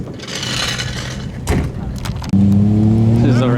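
A car with a 1JZ engine swap pulls away and revs, the engine note rising sharply near the end and loud up close, with people talking over the first part.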